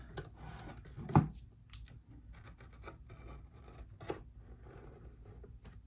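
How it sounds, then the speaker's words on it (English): A single quick snip from cutting during a repair of a Sonos One SL speaker, set against faint, scratchy handling noise. "Let me just cut this."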